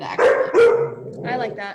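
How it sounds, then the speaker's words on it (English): Dogs bark at home in a few sharp, loud bursts that come in quick succession, heard close by while a person speaks over them. "Sorry about the dogs barking."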